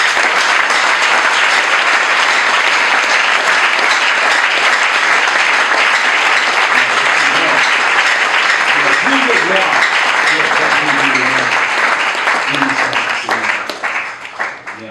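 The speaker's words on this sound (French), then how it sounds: "On applaudit." Audience applause at a French-speaking gathering, a dense roar of clapping sustained for most of the stretch with some voices mixed in, fading near the end.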